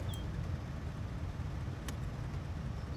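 In the game My Winter Car, a car engine keeps idling, a low steady hum with faint road-like rumble, even and unbroken, with no talk over it.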